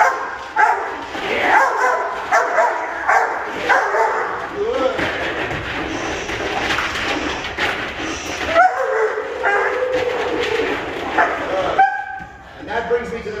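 A German Shepherd puppy tugs and tears at a table to reach a wedge during protection training, giving repeated yips, barks and frustrated whines that run throughout, mixed with scuffling and a person talking over it.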